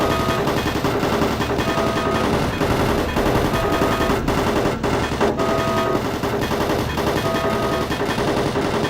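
Automated turret guns in the Doom 3 video game fire in sustained, dense bursts of rapid mechanical gunfire, loud and continuous across the whole stretch with no pauses.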